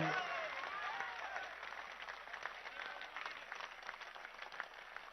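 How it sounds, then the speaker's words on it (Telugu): A large crowd applauding at an outdoor public political meeting, sustained dense clapping heard from a distance, with voices and cheers mixed in throughout. "ఒక్కసారి చప్పట్లు కొట్టగలరా?"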